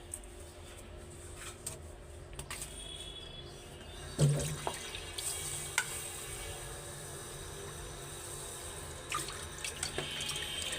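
Tap water runs steadily into a sink while rice is washed, with small clinks and splashes scattered through, fairly faint and close.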